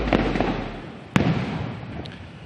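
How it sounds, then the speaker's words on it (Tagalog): Fireworks display at Malacanang Palace during a ceremony, with a few sharp booming bursts spaced apart, one loud close crack in the middle and fainter pops after, over a rumbling outdoor background. "ngayon yung maririnig ay yung fireworks display na nangyayari ngayon na pinapanood ng First Family"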